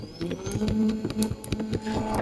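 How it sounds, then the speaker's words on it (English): A Jobo Silverbase film processor motor reverses direction, giving a steady mechanical whir with rhythmic clicks and pulses, close and moderately loud, with no talking. "that's quite a motor sound"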